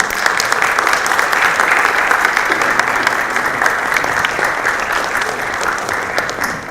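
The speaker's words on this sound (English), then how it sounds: "make a round of applause" Conference audience applauding together in a hall, a steady, dense wash of clapping that stays loud and even throughout.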